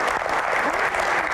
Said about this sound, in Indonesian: Tepuk tangan buat malam ini.